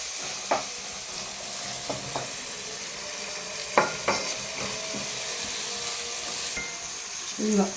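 Tomatoes cooking in a pan for an egg and drumstick curry, a steady close sizzle with occasional spatula scrapes and taps against the pan, plus a brief clatter near the end.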